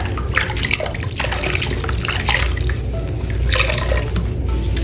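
A 1992 Totally Hair Barbie doll is lowered into water, giving a steady wash of sloshing and dripping liquid, fairly close and continuous, with no talk.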